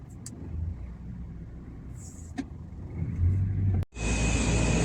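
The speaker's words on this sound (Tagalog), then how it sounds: "Ba't maingay ang sasakyan ni Abdo?" A noisy car engine rumbles steadily from inside the cabin while driving, with a brief dropout near the end before the loud road and engine noise resumes.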